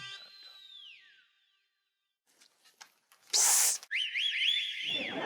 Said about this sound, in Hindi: अबे कौन सीटी बजा रहा है तू?